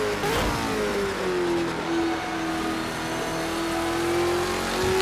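Race car engine at Bathurst in Project Cars 2 holds a steady high drone close by, pitch dipping slightly and rising again as the car weaves gently to warm its tyres, with no talk.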